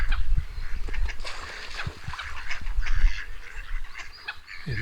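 Ducks and a goose-like honking fowl calling from a park pond, with a swan nearby; a scatter of irregular honks and quacks rises over steady outdoor wind and rumble, some calls close and others farther off.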